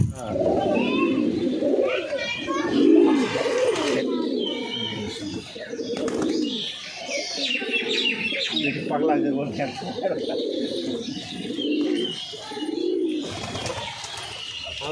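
Giribaz pigeons cooing in a loft in Habra, soft repeated low coos and some chirps, with people talking over them throughout.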